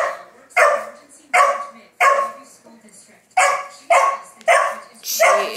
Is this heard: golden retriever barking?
yes